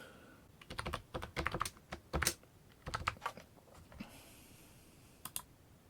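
Quiet, close keystrokes on a computer keyboard as a password is typed, irregular bursts of clicks with brief pauses between them and one last double tap near the end.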